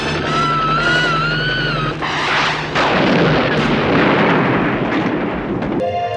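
Rocket launcher explosions in the action film American Ninja, a loud, rolling, booming blast that carries on for several seconds, heavy and continuous, with a brief cut in the sound near the end.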